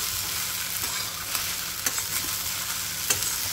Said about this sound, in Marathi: आता हिला आपण मध्ये मध्ये हलवून थोडा वेळ परतून घेऊया